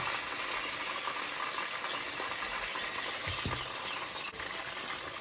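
Cheese melting into butter in a hot pan, a steady soft sizzle and bubbling crackle that stays fairly quiet and even throughout, with an occasional faint clink.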